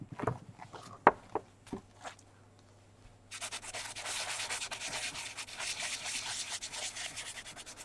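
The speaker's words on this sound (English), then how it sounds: "that's why I need to sand it first." A stone seal being sanded after wax got on the stone, a few light taps and knocks first, then a continuous close scratchy rubbing that runs steadily to the end; no talking.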